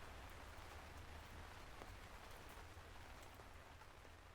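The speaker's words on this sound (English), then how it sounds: "Oh, looks like the rain is letting up." Steady rain falling, a soft continuous hiss with scattered drop taps, heard alone at low volume.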